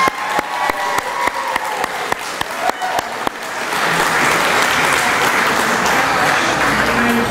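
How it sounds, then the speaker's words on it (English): Wedding guests applauding the flower girl: a few sharp, evenly spaced claps ring out first, then the room swells into steady, full applause. "let's give her a big round of applause"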